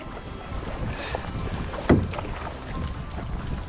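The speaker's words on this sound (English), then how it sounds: "of course there's wind now. Now that we're headed into it." Wind buffets the microphone while a canoe is paddled into a headwind on an Adirondack lake, producing a steady, rough rush with a sharp knock partway through.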